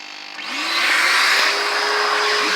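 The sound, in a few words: carpet extractor machine pumping shampoo into car carpet and sucking it out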